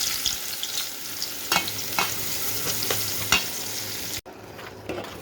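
Onions fry in oil in a pan with a steady, close sizzle. Spoon strokes stir them at a regular pace, and a brief cut comes near the end.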